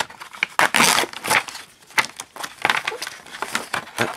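Sticky tape being torn and peeled off while a game tripack is opened, a close run of sharp crinkling and ripping bursts in quick irregular succession.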